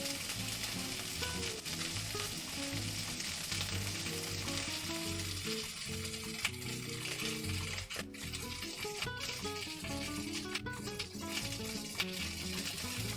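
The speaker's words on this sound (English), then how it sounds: "trying to fight the stoves popping and sizzling" Steady crackling sizzle of food frying in a pan, with occasional sharp pops, continuous and close throughout.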